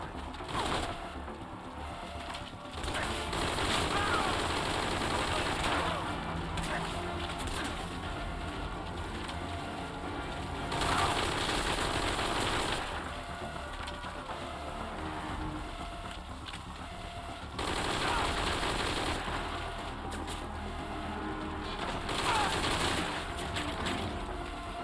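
Gunfire in Metal Gear Solid V: Ground Zeroes comes in long, heavy bursts that surge and fade over a steady background, with cooing birds audible between the volleys.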